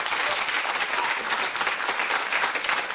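A French political television show's studio audience applauds steadily, dense and sustained clapping from a crowd throughout, loud and continuous with no voices standing out.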